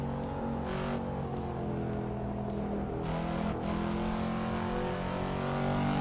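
Volvo S60R engine in the racing game Assetto Corsa Evo, heard from the interior view: a steady, continuous drone with rising and falling revs, loud and alone with no talking.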